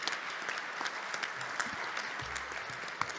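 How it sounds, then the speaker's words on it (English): Audience applause for students at an EU economic policy event at Bocconi University, a steady continuous patter of many hands clapping throughout, moderately loud with a few sharper individual claps standing out. "A big applause to all the students."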